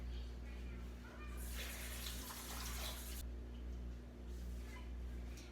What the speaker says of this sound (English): Put the warm water into a bowl.